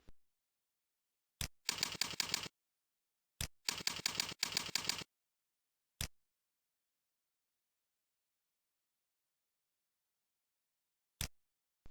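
Two quick bursts of computer keyboard typing, entering an admin username and password at a login screen, with isolated single key taps before, between and well after, all close and clean in an otherwise silent room.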